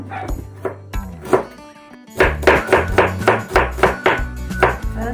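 A knife chops garlic, ginger and onion on a board for ginataang pongapong, loud close-up cuts first spaced out, then coming quickly in a steady run.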